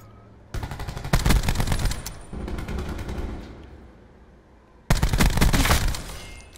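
Loud gunfire from a shooter video game: dense bursts of rapid shots, a sustained volley, a quieter stretch of continued firing, then another sharp, loud burst near the end.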